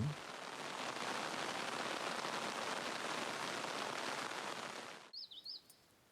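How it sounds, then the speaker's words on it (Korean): Spring rain falls on a tea field, a dense steady patter that stops abruptly, leaving a few faint high bird chirps in the quiet. "모든 생명을 깨우는 봄비가 차밭을 촉촉히 적십니다"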